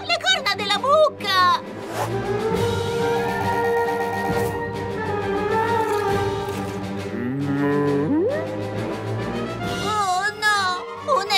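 A cartoon cow moos repeatedly in long, loud lowing calls in an animated children's show, with character voices and music around it.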